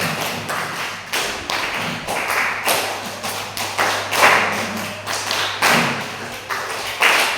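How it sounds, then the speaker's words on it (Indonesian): A group claps together in a classroom, sharp repeated rhythmic bursts of hand claps in sets, fairly close and loud, with brief pauses between rounds. "tepuk tangan buat kita semua"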